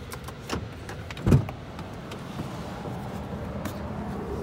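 A car door on a parked car opens or shuts with a single soft thump, heard once in a quiet setting with faint outdoor background noise, in Miami, Florida.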